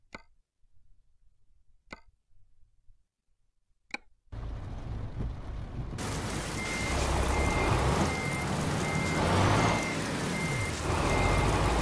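Euro Truck Simulator 2 truck reverses into a parking spot: a few sparse clicks over near silence, then engine rumble rises and evenly spaced reversing beeps repeat steadily over the noise.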